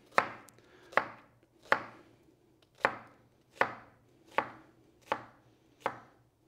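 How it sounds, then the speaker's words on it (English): A knife chops an onion on a cutting board with a rocking motion, eight crisp, evenly spaced thuds about one every 0.7 seconds, close and clear against a quiet background. "I cut again 1/2 inch down in a rocking motion"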